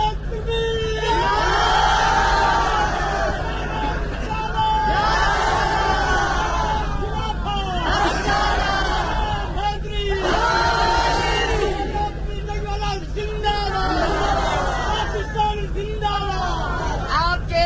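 A large religious gathering chants a devotional slogan together in repeated rhythmic surges, loud and close, with a steady low hum underneath.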